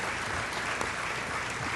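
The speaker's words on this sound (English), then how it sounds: "And let's give Renee another really big round of applause." A luncheon audience at a chamber of commerce annual meeting and awards event gives a loud, dense round of applause, continuous and even throughout with no talking above it.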